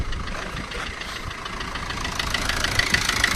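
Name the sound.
Maruti car engine idling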